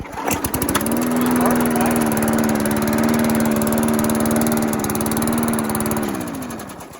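A 35-year-old vintage lawn mower engine cranks and catches, then runs at a steady, loud idle with an even low drone for several seconds before tapering at the end.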